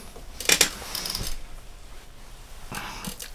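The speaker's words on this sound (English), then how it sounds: "let me move some cards out of the way" Tarot cards are pushed aside on a table, a couple of quick sharp clicks and rustles close by, followed by quieter shuffling toward the end.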